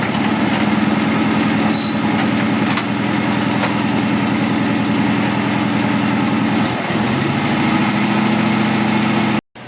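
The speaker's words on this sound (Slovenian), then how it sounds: "V vozilu je bila takšna brizgala. Gladko vžge in zanesljivo deluje." Fire pump engine of a Volkswagen LT fire truck running at steady idle, a loud continuous low rumble with even pulsing, shifting slightly midway before cutting off abruptly at the end.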